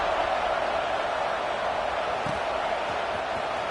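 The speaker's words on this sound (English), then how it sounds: "this crowd is buzzing after that last score" A stadium crowd in a Madden football video game keeps up a loud, continuous buzzing roar after a score, a dense, even wash of noise from start to finish.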